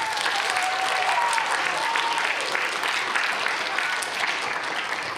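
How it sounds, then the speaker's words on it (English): Audience applause for student participants at a lower school interpretive reading final, a steady, dense wash of clapping that fills the room throughout. "One more round of applause for our participants."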